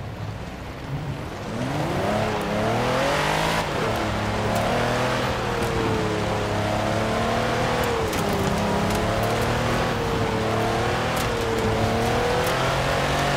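A Mercedes G63 AMG SUV drives off-road, its engine rumbling and revving in rising and falling sweeps as it climbs and shifts, loud and close throughout with no voices.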